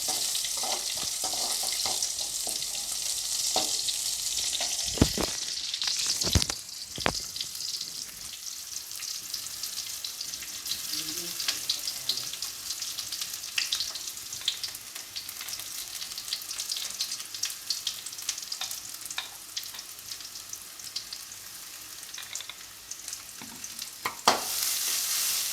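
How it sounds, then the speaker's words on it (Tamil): Onion and ground coconut sautéing in a pan with ginger and garlic for beach pattani sundal, a soft steady sizzle with occasional scraping stirs and clinks of a spoon, no talking. "வெங்காயம் கொஞ்சமாக போட்டு வதக்கினா போதும்"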